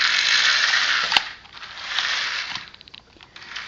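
The motor and gears of a toy tank v4 driving with added torque give a close, buzzing mechanical whir with ratcheting gear clicks. The whir fades and surges, and sharp clicks or knocks break in now and then.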